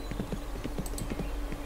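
Rhythmic horse hooves clip-clop steadily at a walking pace in the Riding Star 3 video game, close and even, with no talk over them.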